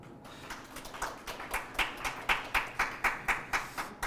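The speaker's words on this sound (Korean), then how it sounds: "다시 한번 뜨거운 박수를 보내주시기 바랍니다" Audience clapping after a seminar presentation on international licensing law. The claps are fairly quiet and fall in a steady, even rhythm of about two per second, with no voices.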